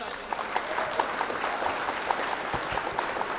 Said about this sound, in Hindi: जरा तालियां बजा दीजिए।